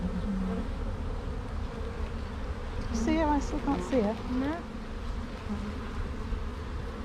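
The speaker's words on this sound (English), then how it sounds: "You can see some bees with some pollen on their legs coming in" Honey bees buzzing around a hive entrance, a soft steady hum with a few nearer bees whining past, while people talk quietly nearby.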